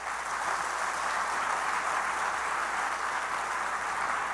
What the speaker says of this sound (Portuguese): Então dê um aplauso para Ele.